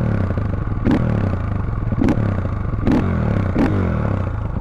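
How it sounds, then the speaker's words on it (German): A KTM EXC 450 dirt bike with an Akrapovič exhaust and no dB killer is revved four times while standing still. Each sharp rise sits evenly spaced over a steady, loud idle close to the microphone. "Also ich rev mal ein paar Mal und versuche mal ein bisschen leise zu sein und dann ein bisschen näher dran zu gehen."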